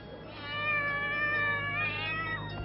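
A kitten stranded on a high ledge of a tall historic building gives a single drawn-out, wavering meow, loud and close over a low steady background hum.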